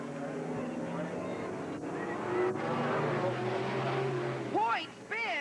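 Race cars roar around the Willamette Speedway oval in a 1988 event, a steady loud engine drone that swells near the end, under continuous announcer commentary.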